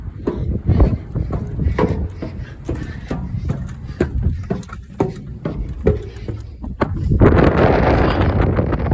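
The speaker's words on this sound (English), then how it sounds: "It's really windy up here, guys." Muffled talking over a low rumble, then strong wind gusts blast across the microphone for the last couple of seconds, on a high lookout at Gettysburg.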